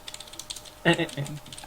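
A computer keyboard sitting on a cardboard box, a short burst of soft taps followed by a few sharper, louder keystrokes close by, with no talking.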